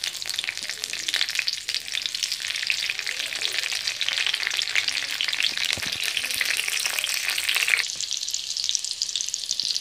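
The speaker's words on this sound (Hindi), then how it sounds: "तेल गरम होने पे आप हरी मिर्च इसमें डाल दीजिए।" Green chillies sizzle in hot oil in a pan, a dense crackling hiss that stays loud and close throughout, with a brief stir or shift near the end and no speech.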